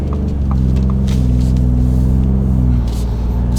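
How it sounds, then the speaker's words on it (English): A 2021+ Ford F-150 with the 3.5L EcoBoost and an MBRP 3-inch cat-back dual rear-exit exhaust accelerates gently, giving a steady, smooth, deep rumble at close range that rises slightly and stays mellow throughout. "So this is the EcoBoost Duals. And you know what? Man, super smooth exhaust note."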